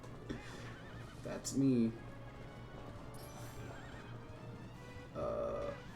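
A horse in the video game Twilight Princess gives a short whinny among clip-clopping hooves, with game music and effects throughout and a player's voice briefly speaking.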